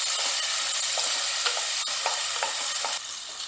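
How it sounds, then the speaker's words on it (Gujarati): Tomatoes and ginger sauté in a pot with a continuous loud sizzle, broken by occasional soft stirring clicks, with no talking. "બધું મિક્સ કરી અને ટમેટા સોફ્ટ થાય ત્યાં સુધી સાતળવાનું છે."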